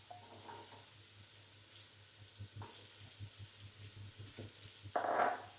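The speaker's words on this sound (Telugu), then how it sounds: "హీట్ అయిపోయిన తర్వాత అయితే మనం ఈ క్యూబ్స్ కట్ చేసుకొని పంకిన్ అండ్ ఆలూని అయితే దీంట్లో వేసుకుందాం" Cubes of pumpkin and potato sizzle in hot oil as a soft, steady frying hiss under a low background hum. A brief louder crackle sounds near the end.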